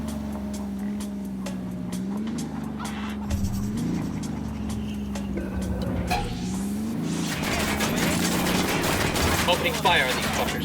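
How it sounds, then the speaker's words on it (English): Gunfire in the Ghost Recon video game, quick shots cracking over a steady low engine-like drone and ambient game sound, with the firing growing busier and denser toward the end. "Opening fire on these fuckers."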